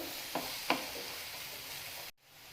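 Onion with ginger and garlic sautéing in a pan, a steady close sizzle broken by two quick stirring scrapes before the sound cuts off abruptly.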